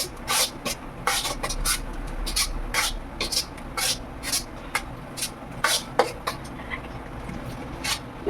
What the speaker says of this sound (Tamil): நல்லா கிண்டிக்கிடுவோம்